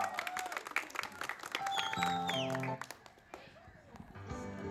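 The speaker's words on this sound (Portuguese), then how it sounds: "Palmas para a mamãe, galera." Scattered clapping from an audience at a Brazilian stage show, mixed with music tones and busy crowd sounds, fading out toward the end.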